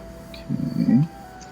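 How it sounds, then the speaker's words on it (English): A stomach gives a low, gurgling growl that lasts about half a second over a quiet room hum, faint and close. "my stomach just growled"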